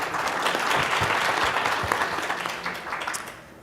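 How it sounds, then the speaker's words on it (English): A conference audience at a health leadership summit panel applauds the clinical care group, a full, dense wash of many clapping hands that stays steady and then tapers off near the end. "a round of applause for the clinical care group"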